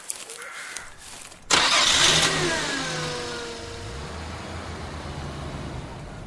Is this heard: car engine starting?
yes